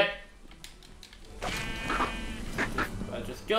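Sheep bleating in the video game Minecraft Dungeons, a short nasal bleat at the start followed by game combat noises and busy background sound.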